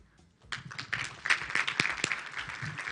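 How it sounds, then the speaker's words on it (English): An audience claps at a live International Women's Day 2024 bell-ringing event for gender equality. The applause is fairly light, starting after a quiet moment, with a few louder individual claps standing out, and no talk over it. "A hand of applause to that"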